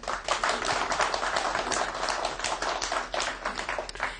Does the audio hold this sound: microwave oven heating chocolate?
no